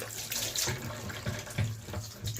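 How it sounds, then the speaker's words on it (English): Running tap water pours steadily over soursop fruit being washed in a sink, a close, continuous splashing with small irregular bursts as the fruit is turned under the stream. "starting by washing off my soursop with some running water."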